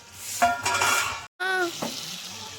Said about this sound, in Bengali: এবার আমি এর মধ্যে আলু পটল দিয়ে, ভাজা আলু পটল দিয়ে কষিয়ে নেবো ভালো করে।